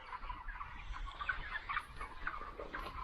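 A flock of broiler chickens on a poultry farm, some suffering from fluid in the bones, fills the space with a steady, dense murmur of soft clucks and chirps at moderate distance, with no talk.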